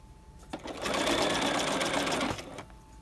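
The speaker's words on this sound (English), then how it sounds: "So now when we sew, since the foot is in position number 1, not a final seam" Sewing machine running steadily for about two seconds as it stitches a fabric-covered piping cord, with the presser foot in its first position, starting and stopping cleanly with a short rattle at each end.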